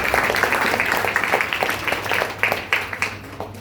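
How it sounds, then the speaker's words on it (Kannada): Audience clapping at a children's Christmas program in a church, a steady patter of many hands with sharper individual claps standing out, fairly close and loud throughout, then thinning slightly toward the end. "ಎಲ್ಲರೂ ಜೋರಾಗಿ ಚಪ್ಪಾಳೆ ತಟ್ಟಾಗ"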